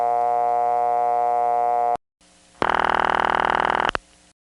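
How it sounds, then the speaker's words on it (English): A later-type dial tone from a Bell System 355 step-by-step office hums steadily for two seconds and cuts off, then after a short gap a louder buzzing, pulsed tone plays for just over a second. "some later ones had a different type of dial tone and ring, the one that sounds like"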